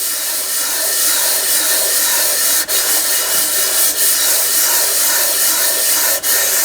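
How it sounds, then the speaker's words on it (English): Hand file rasping across a soft aluminum case half to flatten the split face, a steady continuous scraping hiss of close, even strokes with a few brief pauses. "It's very easy to file flat."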